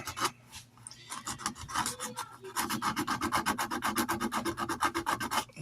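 A knife handle is hand sanded with low-grit sandpaper, a close, steady back-and-forth rasping in quick even strokes that speeds into a dense rhythm after a brief pause.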